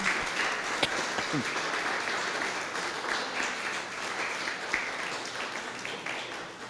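A church congregation applauds during a Spanish-language sermon, a moderate, steady wash of clapping heard at some distance in a reverberant room, with no talk over it.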